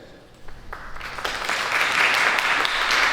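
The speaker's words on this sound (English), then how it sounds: "also take a moment to clap for yourself" Audience at a business procurement forum lunch breaks into applause, starting with a few scattered claps and swelling into steady, fairly loud clapping from a room full of people.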